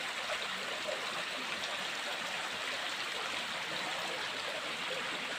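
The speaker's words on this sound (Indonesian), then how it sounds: "Airnya itu keluar dari dalam tanah, dari bebatuan," Underground river water pours out of rocks inside a cave passage, producing a steady, loud, unbroken rushing and splashing with no voices.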